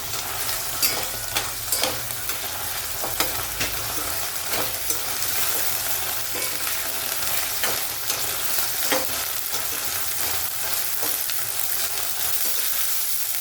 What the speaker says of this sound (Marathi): आता वाटाणे पण आपण परतून घेऊ